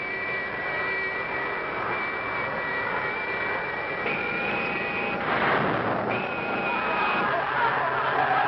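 A 1964 science-fiction film's spacecraft engine roars with a steady jet-like whine and rumble, a sustained high tone holding throughout while a surge of added thrust swells midway, with a voice speaking over it.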